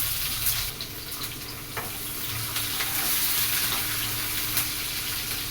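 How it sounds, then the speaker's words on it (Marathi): Onion, garlic and greens fry in thick oil with cumin for Pune-style puri bhaji, giving a steady, dense, close sizzle with occasional scraping stirs throughout and no voices. "मस्त सरा तांबूस रंगावरती तळून घेऊ"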